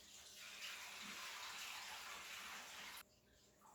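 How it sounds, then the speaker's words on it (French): Water poured into a deep baking pan beside a cheesecake mould for a water bath, a steady splashing gush for about three seconds, quiet and close, then it stops. "je prends l'eau, je verse ça à côté"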